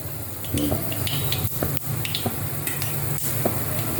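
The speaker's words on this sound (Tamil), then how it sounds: "வெண்டைக்காயும் இந்த கருவேப்பிலையும் போடணும்." Okra and curry leaves frying in a pan, a continuous close hiss of hot oil with occasional pops, light clinks and a stirring scrape, faint tapping water underneath, no voices.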